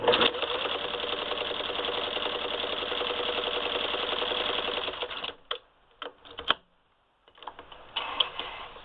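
Singer 15-91 sewing machine running an antique automatic zigzagger on a wide stitch: a steady, fast, close mechanical whirr and clatter for about five seconds, then it slows and stops with a few separate clicks and knocks.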